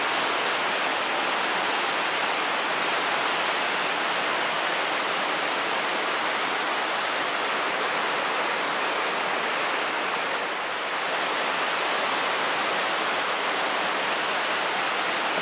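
Glacial runoff rushing down a hillside in the Green River, a steady, full broadband roar of churning water close by, continuous and loud with no voices.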